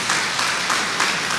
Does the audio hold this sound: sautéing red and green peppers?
no